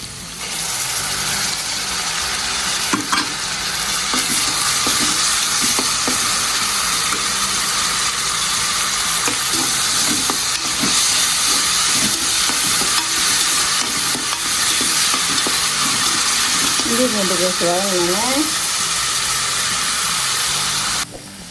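Onions with ground ginger-garlic paste sauté in a pan for a country chicken curry, giving a loud, steady sizzle throughout with repeated scraping stir strokes.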